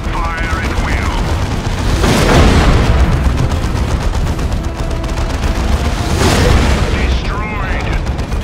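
A Predator tank fires in Dawn of War 2: Chaos Rising, heavy booming cannon shots and rattling gunfire over a constant roar of battle, with two especially loud blasts and a voice speaking beneath the combat.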